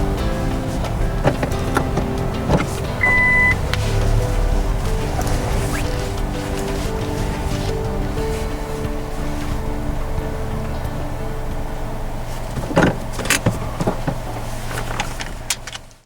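A car pulls out of a parking lot by a waterfall spring in Akita in summer. Engine rumble and clunks of the car moving come up close, and a few sharp knocks and clicks near the end.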